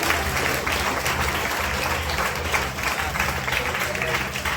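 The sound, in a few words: audience clapping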